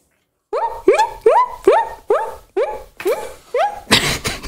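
A person's voice imitates a guinea pig with a run of about nine quick, squeaky yelping calls in a steady rhythm, close and fairly loud, ending in a burst of breathy noise.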